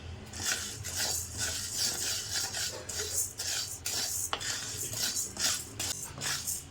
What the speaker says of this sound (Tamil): ஒரு நிமிஷம் வந்து ஜவ்வரிசியை லைட்டாக வறுத்துக்கணும்.